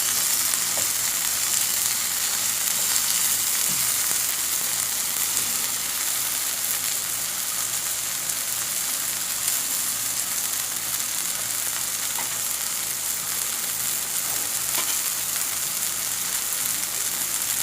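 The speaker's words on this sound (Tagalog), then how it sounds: "Diretso lang natin yung paggigisa." Sautéing aromatics in a pan for pork afritada gives a dense, steady sizzle like light rain that runs evenly throughout, with a few faint clicks of stirring and no voices.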